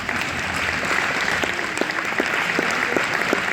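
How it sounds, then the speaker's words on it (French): An audience applauds healthcare and social work professionals at a public talk, a steady burst of many hands clapping in a room, moderately loud and sustained throughout. "vous pouvez, je pense, applaudir tous ces professionnels"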